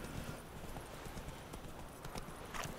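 The horse Roach trots along in The Witcher 3, hooves clip-clopping softly in a steady rhythm over low in-game ambience.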